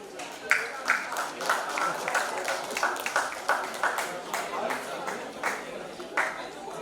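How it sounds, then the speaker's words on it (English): An audience claps for the choreographers and performers called to the stage, a steady patter of hands with sharper bursts, going on under a voice talking throughout. "They do deserve claps."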